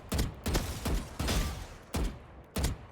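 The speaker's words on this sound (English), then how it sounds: "the only time you want to do tap fire" Tap-fired gunshots in Valorant, six sharp single reports in an uneven rhythm about half a second apart, loud and close with short decaying tails.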